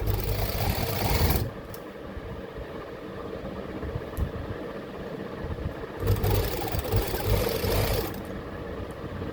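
An electric motor-driven sewing machine stitches the hem of a kurta in short runs, a dense whirring drone that stops and restarts, with a louder burst at the start and another around the middle.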